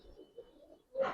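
A pigeon gives a short, soft coo, faint and close, with a brief brighter burst at the end.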